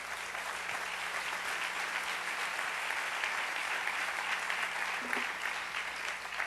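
A congregation at a Spanish-language church service breaks into loud, sustained applause, a dense, even roar of many hands clapping that runs unbroken throughout.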